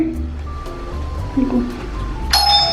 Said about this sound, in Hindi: बजा दो घंटी।